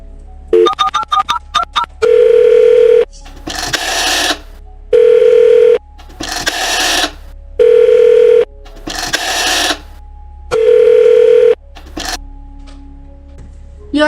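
An old telephone handset gives a steady, loud dial tone in repeated bursts, broken by clicks and short gaps as the receiver is jiggled, with brief tone pulses near the start.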